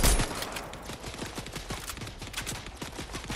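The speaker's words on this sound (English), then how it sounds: "they're shooting above me" Rapid gunfire in Fortnite, a fast string of sharp shots that keeps going the whole time, loud and fairly close, with no talking.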